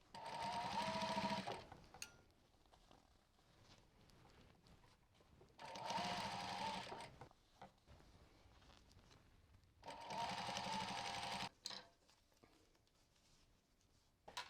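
Sewing machine stitching fabric for a bumbag: three separate bursts of rapid, whirring stitching, each about a second and a half long, separated by quiet pauses with small handling clicks, recorded close up.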